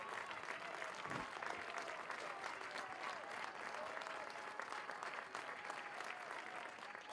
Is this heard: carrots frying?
no